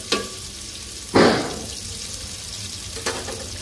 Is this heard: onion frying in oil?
yes